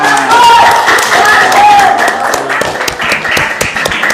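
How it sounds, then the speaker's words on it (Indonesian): Classroom applause from students during a grade 6 school religious-education lesson, a busy spread of clapping running steadily for about four seconds with voices mixed in underneath. "Berikan tepuk tangan."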